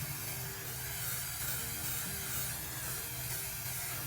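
Aerosol can of adhesive sprays steadily while FRP panels are installed, a continuous close hiss held at an even level throughout with slight swells in pressure, no voices.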